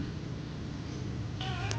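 A cat meows inside a ventilated pet carrier bag, with one short cry rising near the end over a steady hum of moving air in a car.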